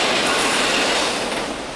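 Train rolling past at Marion, Ohio, a steady loud broadband rumble and rush of railcars close by, easing slightly toward the end with no voices.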